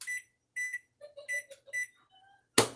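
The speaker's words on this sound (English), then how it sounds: "our timer is now set" A microwave oven's timer sounding while it is being set: a run of several short, clear electronic beeps in quick groups, fairly faint, ending in a brief louder click or thud.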